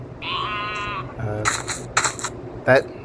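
A short synthetic bleat like a cartoon sheep sounds near the start of a Minecraft-style Roblox game, followed by clicky, clattering game effects and brief bursts of noise.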